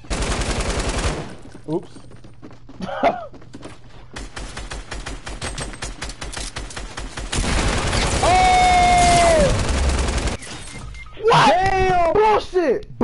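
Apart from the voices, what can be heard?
light machine gun firing in a video game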